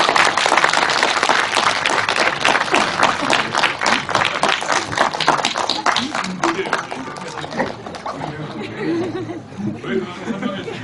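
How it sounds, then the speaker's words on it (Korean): Audience applause and chatter as a film's director and actors walk out for a post-screening guest talk, dense clapping early that thins out later, with crowd voices and some laughter mixed in. "큰 박수로 좀."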